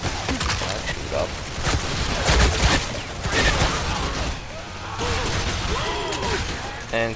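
Chaotic gunfire and explosions from the first-person shooter Bulletstorm, a dense continuous barrage with clattering mechanical bursts and booms, loud throughout with talk mixed in.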